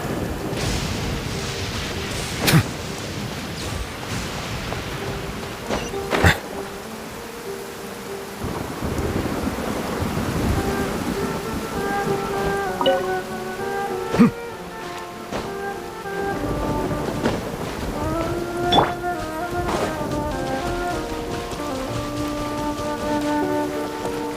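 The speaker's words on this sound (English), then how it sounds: "This heavy rain must be quite an inconvenience for you." Heavy rain in the video game Genshin Impact, falling steadily with occasional sharp thunder cracks. Calm musical tones rise over the downpour midway through.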